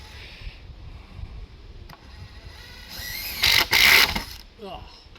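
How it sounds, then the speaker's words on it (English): A big screw driven and nails set into the timber frame of a gazebo with a smoke-hole chimney, heard as one loud, close, roughly one-second mechanical burst over a low background with faint voices. "So this big screw goes in and we're nailing as well."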